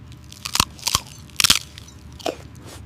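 Several sharp, loud crunches of a golden fried cake rolled tight in a leaf wrapper and dipped, bitten in a few separate bursts close up, with no talking.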